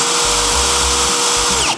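Milwaukee M18 FQID first-generation cordless impact driver running free in short bursts, loud and close, with a steady whine and low hum that stop and restart several times, no talk.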